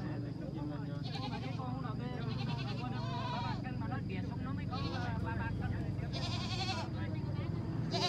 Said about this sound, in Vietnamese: dê đầu đàn các bạn dê đầu đàn ấy kêu kìa